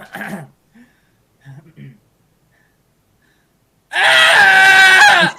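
A person imitates a blood-curdling scream, a loud, sustained, strained shriek of about a second and a half that follows brief snippets of quiet talk.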